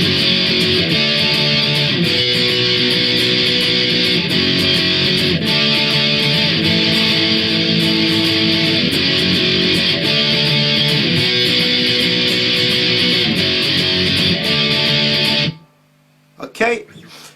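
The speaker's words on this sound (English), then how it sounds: "so next up's the chorus where they sing I think you need some time alone" Power chords from the chorus of a song, strummed on guitar in a loud, even, driving rhythm with chord changes every couple of seconds before stopping abruptly.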